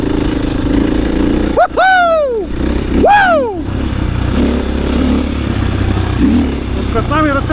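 A 2022 KTM EXC-F 500 enduro motorcycle on a fast morning ride, its engine revving in sharp rising bursts twice early and once near the end over steady riding rumble and wind.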